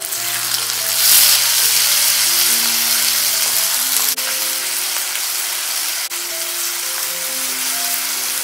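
Chopped tomato hits browned onions in a hot pan, setting off a loud, steady sizzle and frying hiss that runs close and continuous with no one talking.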